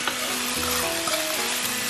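Chicken sizzles and fries in a hot wok with garlic and ginger, a steady close crackle filling the whole stretch with faint stirring, no voices.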